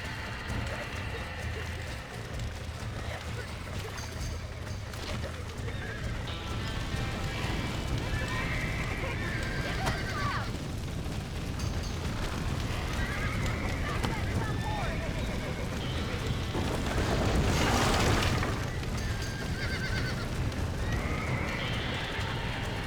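Horses whinny and hooves clatter in a galloping rhythm in Red Dead Redemption on PS5, with shouting voices over a busy game soundscape and a loud burst near the end.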